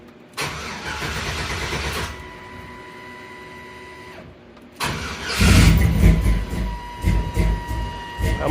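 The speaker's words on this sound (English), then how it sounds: "Let's try to fire it." A Jeep YJ engine cranking over twice with pauses between, then catching and roaring to life, running rough and loud up close as it revs.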